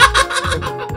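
Chicken in Minecraft clucking in a quick series of short, close, loud clucks over about a second.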